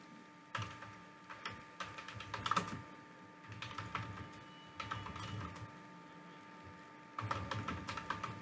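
Computer keyboard keys clatter in irregular bursts while an email is typed, pausing briefly between flurries; close and fairly quiet, with no talk.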